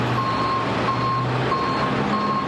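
A tow truck clearing abandoned cars on streets in northeast Kansas City sounds steady reversing beeps at an even rhythm. They carry over a constant low diesel engine rumble from a short distance.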